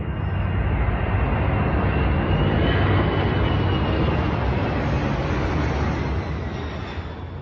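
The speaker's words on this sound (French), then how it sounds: "Un avion de transport de l'armée de l'air australienne se fraye un chemin à travers la ville animée de Brisbane" A Royal Australian Air Force transport plane flies low over Brisbane during an annual air show, its engines a loud, continuous roar that holds steady and then fades slightly toward the end.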